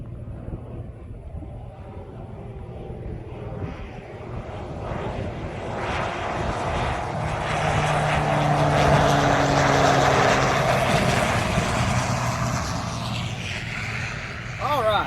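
A propeller airplane flies past, its engine drone swelling to a loud peak mid-pass and then fading; people talk over it.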